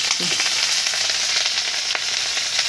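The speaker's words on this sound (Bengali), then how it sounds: "ফুটছে কেমন এখন জল ছিল বলে নাকি ফুলকপি ছিঁচে" Loud close sizzle of cauliflower frying in a pan on a rooftop, a constant crackling hiss dotted with small pops, a faint voice fragment near the start.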